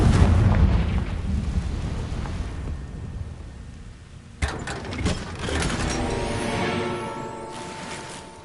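A Confringo fire spell in the Hogwarts Legacy video game erupts with a loud rumbling blast that fades slowly, then a second sharp crack and fiery burst with a ringing, crackling tail.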